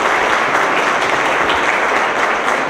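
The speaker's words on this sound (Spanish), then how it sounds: "Despidamos con un fuerte aplauso a los miembros del presidium." Loud, dense applause at a formal agreement-signing ceremony as the officials on the dais are sent off, a steady wash of many hands clapping close by without a break.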